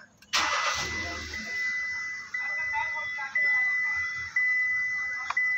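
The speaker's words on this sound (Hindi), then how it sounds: "सही देख सकते गाड़ी स्टार्ट कर दिया है" A Hyundai with an automatic transmission fault cranks and fires up, then settles into a steady idle with a high whine, a few small clicks and a faint beep, with brief talk nearby.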